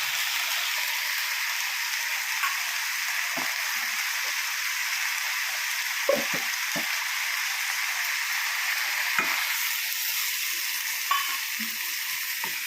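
Chilli, turmeric and fenugreek powders sizzle steadily in a pan for a Kerala kovakka prawn theeyal, with a constant frying hiss and a few soft scrapes and knocks of stirring.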